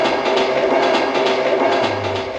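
A train running on rails gives a steady rolling roar with faint repeating clicks, loud and close throughout, with no voices.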